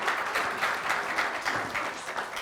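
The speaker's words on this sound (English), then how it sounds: "let's keep the applause to the end, shall we?" Audience applause fills a conference hall: a steady patter of many hands clapping, moderately loud and continuous with slight surges, with no one speaking over it.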